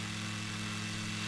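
Steady drone of a tired, old-sounding aircraft engine in Microsoft Flight Simulator 2020, heard from outside the plane after a night water landing, an even low hum with a whirring layer and no voices.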